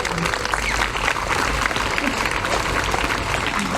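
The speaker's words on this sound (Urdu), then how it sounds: "میرے کلاس فیلو ٹیچروں کے لیے تالیاں" A school audience applauds classmate teachers, a short steady wash of dense clapping from a crowd with speech faintly mixed in.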